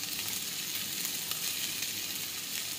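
Turmeric and coriander powder sizzling in hot oil in a pan, a constant close hiss at moderate level with no voices.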